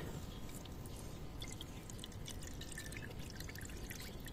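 Water drips steadily in a quiet outdoor spot where eggs are being cooked in the heat of the sun, with small irregular drops falling over a constant low background hum.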